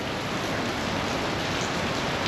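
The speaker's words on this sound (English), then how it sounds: "with all this rain, it's not going to make it any easier" Steady rain patters on pavement in India, a dense, even wash of drops close by, with no voices.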